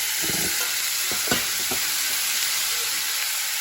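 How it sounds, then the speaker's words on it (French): Shallots fry quickly in a hot pan with shrimp added, a loud continuous sizzle with a few sharp stirring scrapes and clacks near the start, then settling into an even hiss. "Les échalotes, je vais juste les frire rapidement pour qu'ils ne se brûlent pas"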